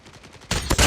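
A sharp gunshot in Call of Duty Mobile, reportedly a sniper, cracks loudly about halfway through a short stretch of quieter game sound, followed by another quick blast.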